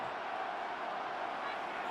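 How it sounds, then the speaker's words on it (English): Steady, dense roar of a Buffalo stadium crowd before a third-down play at a Bills football game, a continuous wash of cheering with no distinct breaks. "The Buffalo crowd being heard before third down."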